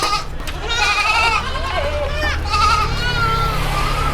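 A goat being readied for the Qurban sacrifice bleats in a few wavering, nasal calls close by, with people talking casually around it.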